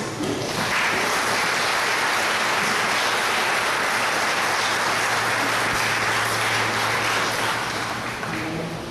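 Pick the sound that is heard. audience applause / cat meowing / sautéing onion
audience applause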